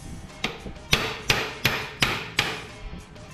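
A small hammer raps repeatedly on a Strip Tec Model 1000 automatic wire stripping machine during a repair, giving six or so crisp, close metallic taps in a steady rhythm, the first one lighter.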